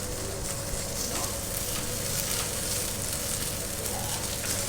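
A paratha fries in ghee on a hot pan over a low flame, giving a steady, close, dense sizzle that continues without pause and without talk.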